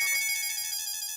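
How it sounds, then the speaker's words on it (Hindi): A phone ringing with a steady, bright electronic ringtone, continuous and fairly close, with no talk over it. "बासुंदी का फिर से फोन"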